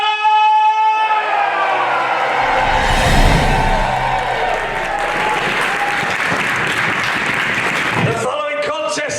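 A wrestling event crowd roars with loud, sustained cheering and applause that fills the room throughout, with an announcer's voice ringing over the start before the noise settles.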